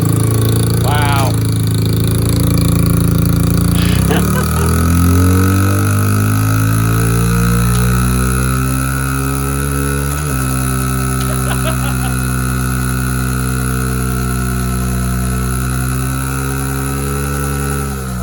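A C6 Corvette engine revs hard during a burnout, its loud droning exhaust note climbing and dropping in pitch in several pulls, with a steady high whine and a sharp chirp or two amid the roar.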